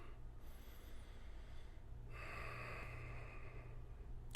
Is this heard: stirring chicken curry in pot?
no